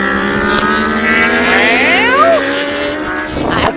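A Kawasaki ZX10 superbike screams past at full racing pace during a British Superbike race at Donington Park, its loud engine note rising and then dropping as it passes close by, with another bike following.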